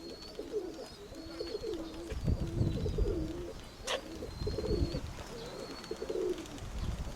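Soft, repeated pigeon coos sit low against a steady outdoor background, with a few faint chirps and a brief sharp click partway through.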